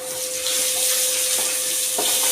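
A steady, moderate sizzle of onion and tomato paste frying in a pan, with a faint constant hum and a couple of soft scraping touches.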